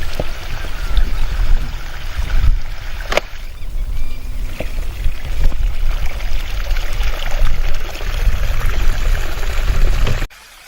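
Water pours and splashes steadily into a tipping irrigation device in a farm field, a continuous near rush of flow lasting throughout before cutting off abruptly at the end.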